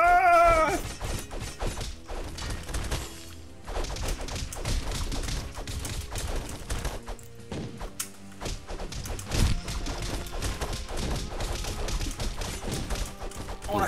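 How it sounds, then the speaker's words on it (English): Bombs fired by an organ enemy burst in the video game Castle Crashers: repeated crashing blasts and heavy thuds pile up over dense, loud game music, continuing steadily with no voices. "It's the organ, and it shoots bombs at you."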